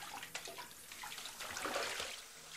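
Running water splashes and trickles faintly, as from a tap while someone washes, a soft continuous flow with small splashes and no voices.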